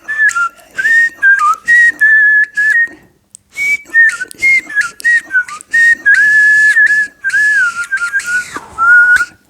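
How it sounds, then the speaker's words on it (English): A warbling palatal whistle made with lips and teeth trills in quick, wavering bursts, short phrases broken by brief pauses, close and clear with no talking. "Today we're going to take a look at another variation of palatal warbling."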